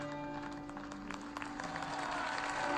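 Crowd applause with scattered cheering for King Aegon at a coronation, a dense, steady wash of clapping that swells slightly toward the end, with no clear speech over it.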